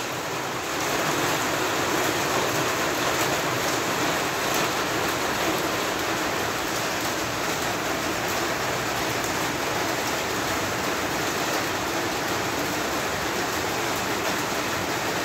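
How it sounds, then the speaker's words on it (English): Heavy rain pours onto a shed roof in a dense, steady roar that continues without a break, loud and close. "it is bucketing down"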